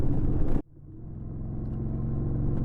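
An 1100 motorcycle cruising in fifth gear with the throttle rolled on uphill. A loud burst cuts off abruptly, then a low engine rumble swells back and holds steady and close.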